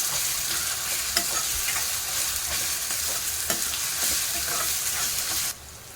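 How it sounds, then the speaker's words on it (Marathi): Ginger garlic paste sizzles and fries in a hot pan while being stirred for a potato curry, a steady loud crackle with occasional scraping clicks that drops off abruptly near the end. "आता आपण आलं लसूण पेस्ट टाकूया चांगला असं परतून घ्यायचं"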